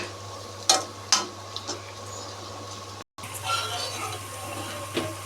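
Ingredients sizzle softly in a pan over a low steady hum, with a few sharp clicks and scrapes of stirring near the start and later on.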